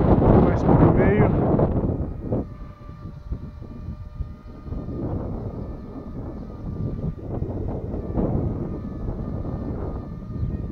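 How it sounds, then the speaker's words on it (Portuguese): Strong wind buffets a drone microphone with steady rumbling roar and gusts, under a high whine of the drone's motors throughout. "O vento está muito forte."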